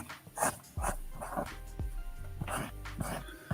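A small dog whimpering to go outside, with several short whines and yips coming close together at close range, and no speech.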